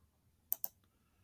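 Two quick, crisp computer mouse clicks close together, near and clear against a quiet background, used while editing in Clipchamp.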